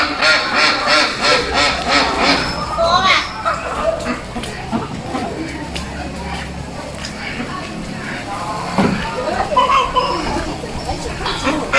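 Ducks at a live poultry market that also sells dogs and chickens, giving several short quacks amid busy crowd noise, with people talking nearby throughout.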